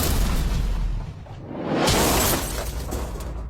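A single loud explosive blast bursts out midway with a whooshing, shattering rush, then settles into a lingering rumble against steady background noise.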